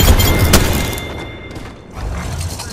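Frag grenade blast in the Apex Legends battle game: a loud, booming low thud at the start with crackling debris, decaying into rumbling noise, then a second swell of low rumble near the end.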